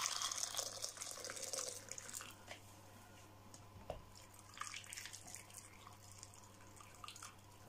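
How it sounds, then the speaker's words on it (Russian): Boiling water poured from a kettle over eggs and turmeric in a pot, a close splashing pour that tapers to gentle trickling and dripping, with a low hum beneath. "Куркума тоже засыпаем сюда. На глаз. И заливаю кипятком."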